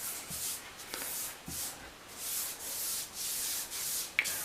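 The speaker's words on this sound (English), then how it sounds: "What we're doing here is taking off the excess grout from the tops of the tiles, but we're also smoothing the grout in the grout lines." A damp sponge wipes excess grout off bathroom floor tiles, making rhythmic rasping swishes about twice a second. The strokes are close and moderately loud, with a sharp tap near the end.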